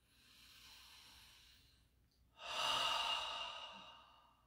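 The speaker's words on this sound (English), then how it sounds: "A deep breath." A slow, deep breath during a guided meditation: a soft inhale, a brief pause, then a fuller, louder airy exhale close to the listener, with no talking.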